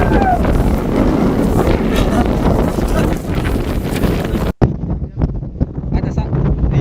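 Strong wind buffeting a microphone on a foggy mountain summit, loud gusty roar for most of the clip, cutting out abruptly then returning in rougher bursts.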